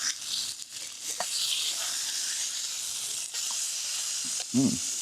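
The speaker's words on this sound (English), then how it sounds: "I'm just going to flip the meat here." Burger meat frying outdoors in the snowy deep woods, a continuous close sizzle and hiss with a few soft knocks as the patty is flipped, ending in a brief louder burst.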